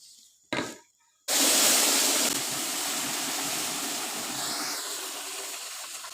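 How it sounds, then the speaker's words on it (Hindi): Water poured into semolina roasting for suji halwa, halwai style, gives a loud sustained sizzling hiss that erupts after a brief splash and keeps steaming close by, with no talk. "अभी हम डालते हैं इसके अंदर पानी।"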